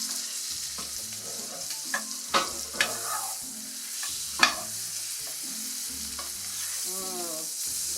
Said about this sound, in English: you're just going to take that butter and you're just going to cook that steak on that outside